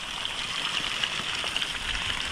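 Water trickling and dripping steadily in an outdoor bathing enclosure on a farm, left running to keep nearby orchids moist; a continuous close splashy hiss with small drip accents and no talk.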